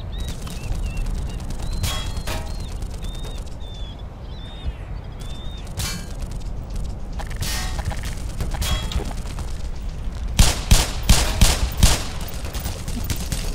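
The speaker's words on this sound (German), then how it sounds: "Und von unten kommen Schüsse." Gunfire rings out in the video game Black Mesa, scattered single shots at first, then a burst of rapid, louder shots near the end over a low ambient hum.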